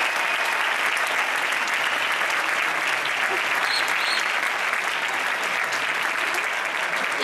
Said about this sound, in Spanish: un aplauso a esos niños especialmente y a su director